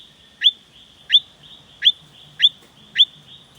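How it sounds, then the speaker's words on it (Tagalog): Five sharp, bird-like chirping calls sound at a steady interval of about two-thirds of a second, each a quick rising note from a Platymantis forest frog, over a quiet background. "Yan naman ang Platymantis sp at ipaparinig ko nga ni sa inyo kung ano ang kanyang tunog."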